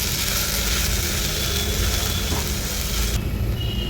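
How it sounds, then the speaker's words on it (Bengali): Grated carrots for carrot halwa are stirred in a hot pan. A steady sizzle runs under soft scraping and clicking from the spoon, fairly close and continuous with no talking. "চলো সেটাকে আর একটু নাড়িয়ে নিই"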